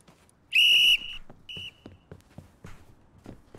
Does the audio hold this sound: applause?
no